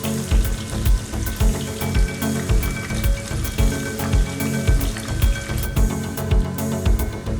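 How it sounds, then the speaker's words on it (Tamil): Paneer pieces frying in hot oil after being turned, a dense continuous sizzle with repeated crackling pops and soft scraping, steady and close throughout. "நல்லா திருப்பி வச்சு இன்னும் கொஞ்சம் ஃப்ரை பண்ணிடலாம்"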